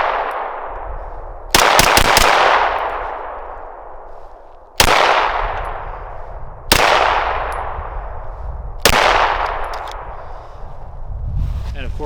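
Smith & Wesson M&P 9 Spec Series pistol firing five loud, sharp gunshots at uneven intervals, each with a long ringing decay, close by; a quick cluster of extra cracks follows the first shot.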